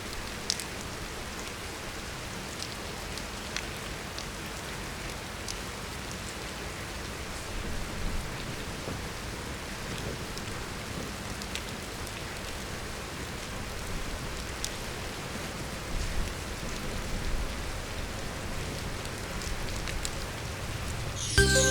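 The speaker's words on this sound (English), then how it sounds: "it's raining, and I think I'm just gonna wait till I stop hearing so much rain" Steady rain falls in Tokyo, a dense constant hiss of drops on surfaces at even loudness throughout, with no voices.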